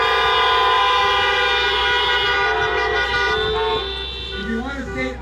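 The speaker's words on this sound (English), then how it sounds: "honk your horn" Car horns honk together at an outdoor political rally in Great Falls, Montana, in a loud sustained chorus of overlapping tones that thins out toward the end.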